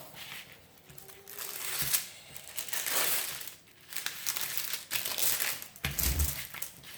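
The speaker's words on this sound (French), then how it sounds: "si je froisse tout, ça va pas le faire" Plastic packaging of a diamond painting kit crinkling and crackling close up in irregular bursts of handling, quiet overall with brief louder crumples and no talk.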